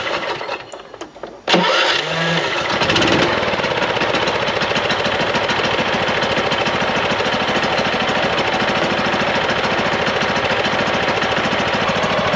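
A flooded classic car engine, its exhaust full of water, cranks briefly and then catches, settling into a loud, rough, continuous idle with a knocking, uneven rhythm heard up close.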